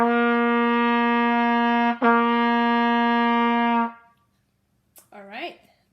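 A single brass instrument sustains two long, steady tones of about two seconds each in a practice exercise, plainly and close up, followed by a brief voice.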